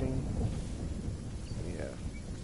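Storm thunder in the video game Fortnite, a continuous low rumble with a rain-like wash across the whole stretch, steady in level and with no distinct single crack.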